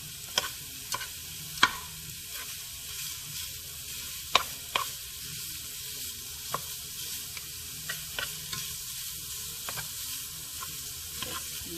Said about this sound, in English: Just gonna brown the sausage.